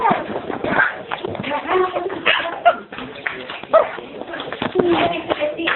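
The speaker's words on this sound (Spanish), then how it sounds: "Aquí está el perro que le gusta jugar." A playful dog gives short barks and yips mixed with whimpers, close by and fairly loud, while people talk over it throughout.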